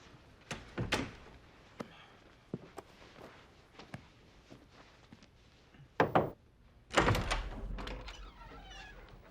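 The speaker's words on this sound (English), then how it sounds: "Charlie, close the door" An office door in a dramatic TV scene is pulled shut, giving a few dull thunks and a louder closing bang near the end, with softer footsteps and movement between.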